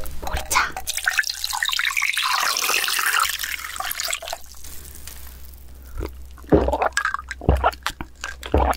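Barley tea poured into a cup at a rainy-day meal of clam kalguksu and seafood pancake, a splashing liquid stream running for several seconds, then a few separate clinks and knocks.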